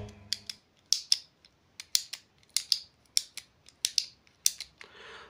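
An assembled Beyblade Ancient Salamander spinning top gives a series of sharp, close plastic clicks in an irregular rhythm, about a dozen distinct snaps with short pauses between them.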